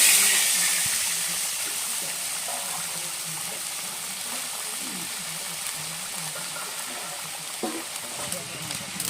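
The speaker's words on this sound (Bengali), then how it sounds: "জলটা আমি এখন কড়াইতে দিয়ে দিচ্ছি।" Water poured into a hot wok after frying prawns sizzles and hisses steadily, a broad close frying noise with faint stirring clinks throughout.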